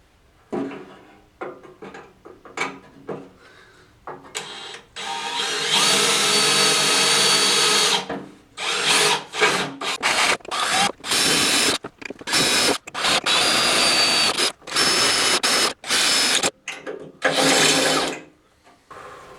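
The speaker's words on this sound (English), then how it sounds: "I'm going to take a small drill bit and actually drill out the center" A power drill with a small bit whines in bursts while drilling a pilot hole in sheet metal, first a long sustained run, then many short stop-start pulses with brief silences between, loud and close.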